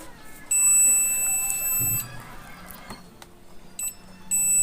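A multimeter continuity beep sounds as its leads check a 110 V output diode for a short in a dead Chinese CRT TV. One steady high tone lasts about a second and a half, then two short chirps follow in a quiet room.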